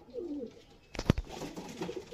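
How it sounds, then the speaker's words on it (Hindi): A golden pigeon's soft coo rises near the middle, mixed with low rustling and faint background murmur before and after. "तो भाई चेतन भाई के एक और खूबसूरत कबूतर, गोल्डन कबूतर का शौक कीजिए"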